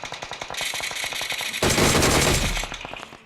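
Rapid automatic gunfire in a squad-based shooter video game, loud and continuous: steady clipped bursts that break into a denser, heavier volley before trailing off.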